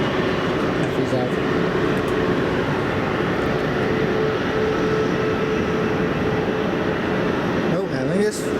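An Aer Lingus Airbus A321 at Manchester Airport produces a steady, broad engine roar that holds evenly throughout, with a faint tonal whine running through it.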